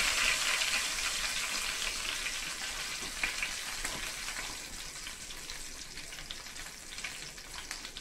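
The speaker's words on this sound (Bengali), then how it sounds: "কারিপাতা ফোড়নে দিলাম" Curry leaves crackle and sizzle in hot ghee as they temper for a Kerala-style egg curry, a steady bright frying hiss with small pops, close and fairly quiet, slowly easing off, with no talking.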